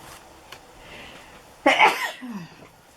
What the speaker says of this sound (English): this stuff makes me sneeze